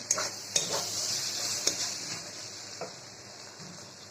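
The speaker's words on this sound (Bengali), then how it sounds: "আজ বানাবো আমি চিচিঙ্গা ভাজা ডিম দিয়ে" Chopped snake gourd fries with egg in a home-kitchen pan, giving a steady sizzle broken by a few sharp clinks and scrapes of a utensil stirring.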